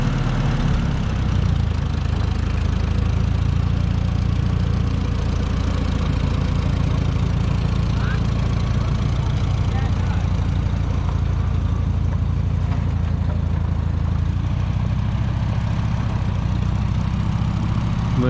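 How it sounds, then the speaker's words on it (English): A U302 tractor engine idles steadily with a 670 exhaust manifold fitted, a loud, even, low-pitched rumble running unbroken with no talk. "This is a exhaust manifold off a 670, so it sounds a little bit better than when I dropped it off down here."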